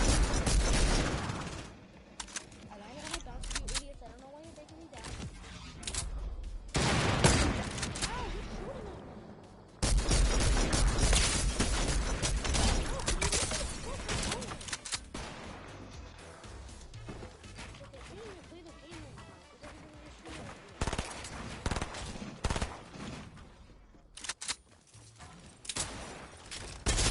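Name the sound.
gunfire in the video game Fortnite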